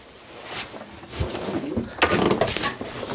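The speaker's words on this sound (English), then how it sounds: "If you have a look underneath the bed, there are four very large drawers." Four large drawers under the bed of an Alubat Ovni 430 aluminium sailboat slide open and shut. Close, fairly loud wooden scraping and rumbling with a few knocks fills the short clip.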